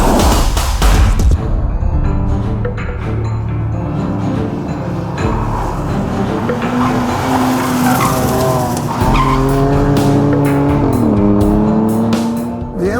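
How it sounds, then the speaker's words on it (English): 2015 BMW M4 with a turbocharged six-cylinder engine driven hard on a racetrack, steady engine drone rising and falling through gears alongside loud, sustained tire squeal in the corners. "The M4 Turbo, 6-cylinder, sounds like a V8 and pulls like a V8."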